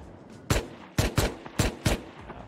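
Gunfire in a multiplayer shooter game cracks out in several sharp bursts, five loud shots in quick irregular succession, close and alone without talk.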